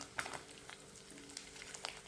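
Potatoes fry crisp in oil over a medium flame for Kathiyawadi lasaniya batata. A quiet, steady sizzle carries small scattered crackles and pops.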